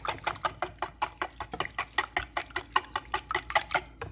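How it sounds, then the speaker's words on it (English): Warmed milk for German pancake batter is whisked briskly in a bowl, giving a steady run of quick, even scraping strokes, about four per second, close and moderately loud with no talking. "So whisk that up"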